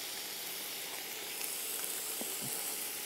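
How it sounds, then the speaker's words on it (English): Asparagus sizzles steadily in a hot pan, a soft continuous hiss with faint crackles throughout, heard alone without talk. "Asparagus cooking away nicely."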